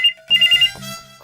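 A mobile phone ringtone plays loud and close: short bursts of a bright electronic melody repeat with brief gaps, and no voices are heard.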